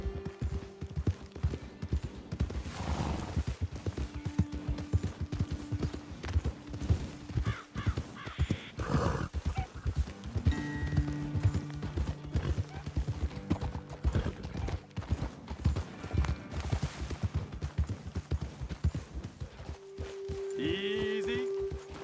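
Horses ride at a walk in Red Dead Redemption 2, with a steady clip-clop of hooves throughout, crows cawing and brief tonal game sounds mixed in, and no voices.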